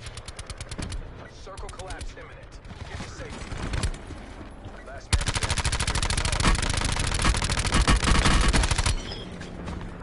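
Rapid video game gunfire, bursts of automatic fire, a lull with scattered shots and then a long sustained volley, loud and close with a voice talking underneath.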